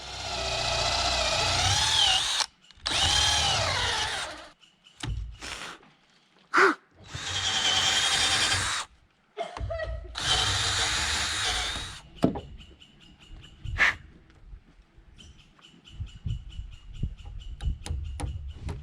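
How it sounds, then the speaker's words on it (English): A power drill whirs in a few short, loud bursts with pauses between, drilling a clearance hole into a wooden framing beam, followed by quieter clicks and handling noise up close. "when I drill the clearance hole, centered"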